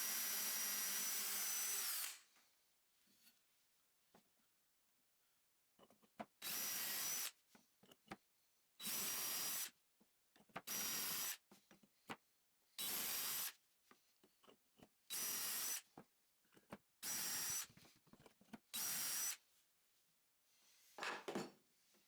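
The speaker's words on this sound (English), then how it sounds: "Using a straight drilling guide, I'm drilling 1/4 inch holes into all the joints to add dowels." A power drill with a straight drilling guide runs in repeated short bursts, about nine, boring 1/4 inch dowel holes into the joints of 2x4 wood, with quiet pauses and faint handling noises between each hole.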